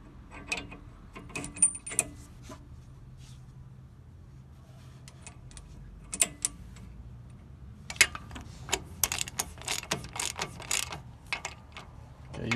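Metallic ratcheting and clanking while bolts are snugged on a 1973-87 Chevy/GMC stabilizer bar, sparse clicks early then denser bursts of ratchet turns near the end, close-up with no talking.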